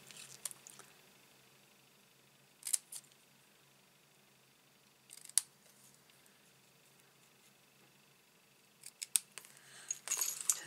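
Scissors cutting card for a handmade note card, a few quiet, separate snips spaced several seconds apart, ending in a quick cluster of cuts against a faint hiss.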